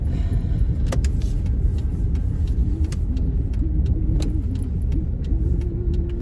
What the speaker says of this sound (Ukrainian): Їдемо ми з Сашулькою у школу